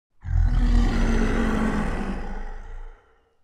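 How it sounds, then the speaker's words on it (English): A deep, rumbling roar standing in for a griffin in a read-aloud story swells quickly, holds loud for about three seconds, then cuts off, with no voices over it. "and with a terrible roar,"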